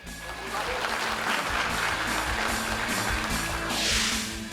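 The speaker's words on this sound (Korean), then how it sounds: "다시 한번 큰 박수 보내주십시오." Sustained audience applause at a small-business owners' championship event in Jeonbuk, a steady wash of many hands clapping throughout, moderately distant and even, with no talking.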